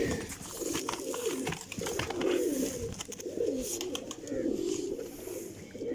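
A golden pigeon at a loft coos in repeated rolling phrases close by, continuous over light background noise and faint chatter.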